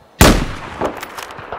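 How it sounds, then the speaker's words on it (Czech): Gunfire in a Battlefield video game match, a single heavy, booming shot with a sharp, loud onset, followed by fainter distant pops and rumble as it fades. "já tam slyším střelbu"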